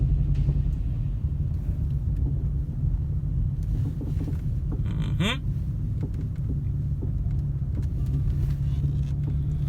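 A Lexus IS300 with a 2JZ-GE VVT-i engine idling roughly and misfiring, a steady low rumble with uneven shaking, heard up close and continuous; a brief squeak cuts through midway.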